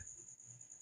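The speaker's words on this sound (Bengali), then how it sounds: "ঝিঝি পোকা ডাকছে" A faint, thin, steady high-pitched chirring, like distant crickets, drifts over a quiet background.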